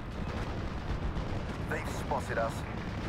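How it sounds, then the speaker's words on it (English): Mortar rounds and explosions rumble and thud in Steel Division: Normandy 44 across a busy battlefield mix, with artillery booms layered over a dense low roar and brief whistling tones. "Mortars are going to be hitting the Panzer 3."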